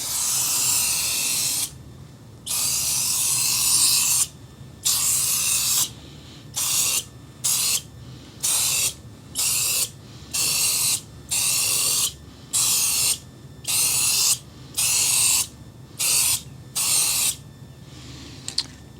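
Spray gun laying a second, light coat of trim coating on a 2008 Ford F150, a loud airy hiss sounding in a long burst and then in a string of short, evenly spaced bursts with brief silences between.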